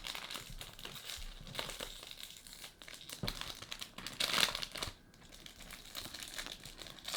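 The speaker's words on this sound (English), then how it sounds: "Look, I have the plastic ripped in like 3 different places and somehow it's still not open." Plastic wrap on a perfume box being torn and crinkled, a steady close run of crackling and rustling with sharper tearing bursts, no voice over it.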